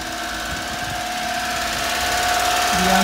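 A 1992 Honda Acty HA4 4WD mini truck idles nearby, its small engine giving a steady, close, rattly drone that swells slightly toward the end.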